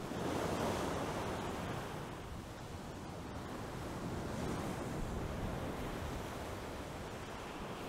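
Ocean waves crash and wash in a continuous, loud roar of surf, slightly stronger at first and then steady, with no voices.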